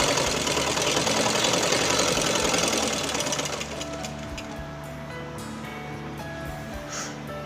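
A sewing machine stitches a blouse sleeve seam with a rapid, steady mechanical whirr that runs loudly for about three and a half seconds, then drops to a quieter hum with faint clicks.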